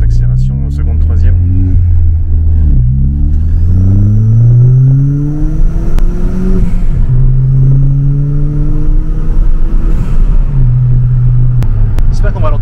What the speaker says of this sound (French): donc t'entends plus le turbo. Vas-y, si tu veux faire une petite accélération seconde, troisième